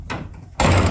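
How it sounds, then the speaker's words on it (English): A 200-year-old wooden door from Eastern Europe, fitted with a skeleton key lock, gives a quiet creak and then a loud, full-bodied knock or thud as it closes. "This is a 200-year-old door from Eastern Europe. And it's got the skeleton key, the whole thing."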